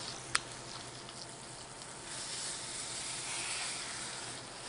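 Beef filet searing in a hot pan, a soft continuous sizzle and hiss heard fairly close but quiet, with one sharp little crackle near the start.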